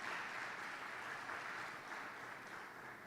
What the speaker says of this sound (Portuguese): Dá mais uma salva de palmas para a palavra de Deus.